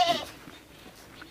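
Goats on a goat farm in Rajasthan, with one sharp, fairly loud bleat right at the start, then quieter farmyard background and faint further animal noises.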